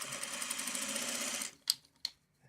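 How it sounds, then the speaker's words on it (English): Sewing machine running in a fast, steady whir for about a second and a half, then stopping, followed by two sharp mechanical clicks in a quiet room. "would help to turn on the sewing machine"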